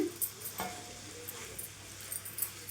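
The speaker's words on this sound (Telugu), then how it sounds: "మంచి క్రిస్పీగా వచ్చే విధంగా వేయించుకోవాలండి" Boneless chicken frying in a pan, a steady faint sizzle with a few stirring scrapes and light clinks of a utensil against the pan, no voices.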